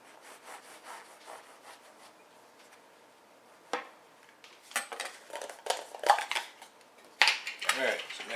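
A knife sawing through sandwich buns on a kitchen counter, soft rubbing cuts building into louder, scraping strokes with occasional clinks of utensils, close and alone without talk.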